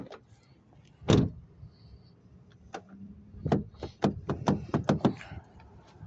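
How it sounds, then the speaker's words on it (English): A small black lock knob on a car door is pushed down, making a sharp clunk followed by a quick run of several clicks and taps close by. "This one you can lock by just pushing on that little black knob on the door."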